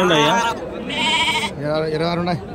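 Young sheep at a livestock market bleat loudly and close by, several wavering cries in quick succession, with talk in the background.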